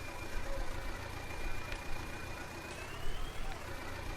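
A tractor engine idles in Farming Simulator 19 on a Russian farm map, a steady low rumble throughout with a thin tonal whine rising slightly near the end and a few faint clicks.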